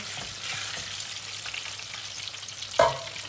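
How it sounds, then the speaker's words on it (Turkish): Eggplant pieces fry in hot oil in a pan, giving a steady, close crackling sizzle with light stirring scrapes and a sharper clack near the end. "Ara ara karıştıracağız her tarafının eşit bir şekilde kızarmasını bekleyeceğiz."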